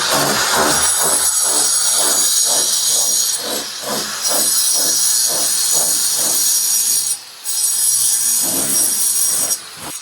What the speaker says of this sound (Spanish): fíjense cómo va a cortar el muro